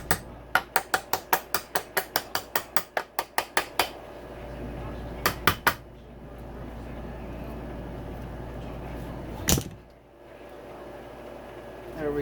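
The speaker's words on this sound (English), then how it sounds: "Just kind of tap it on with a hammer here." Rapid metallic hammer taps drive a tight-fitting part onto a KTM 150SX/125SX two-stroke motorcycle engine during a rebuild, a quick string of about fifteen sharp close strikes, then a few more, and a final louder clank.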